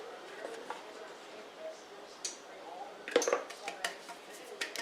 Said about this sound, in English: You do it over the other pan and some of the flour, and it just goes around the sides.